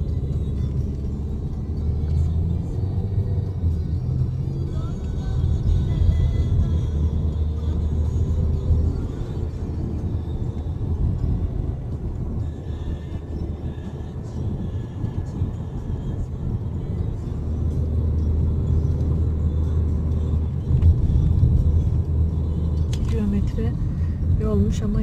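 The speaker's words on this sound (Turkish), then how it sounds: "Vızır vızır da arabalar geliyor, geçiyor." Cars passing by one after another on a narrow road near a dervish lodge and tomb, a continuous low rumble of traffic swelling and fading, with people talking over it throughout.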